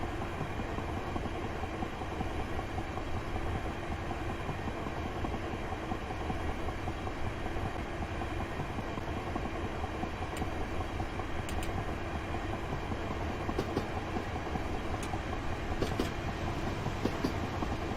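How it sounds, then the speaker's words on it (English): A steady, continuous rumble of a Class 375 electric passenger train in Train Simulator 2018, running at speed on the London Victoria–Ramsgate route, with a dense rolling roar and faint clicks from the track, no voices. "let the train naturally slow down to 75 miles per hour"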